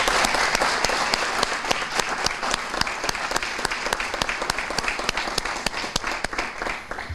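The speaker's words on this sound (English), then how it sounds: "I'd like to give them a good round of applause." An audience at a high school military recognition event gives a steady round of applause, dense clapping with sharp individual claps standing out, close and continuous.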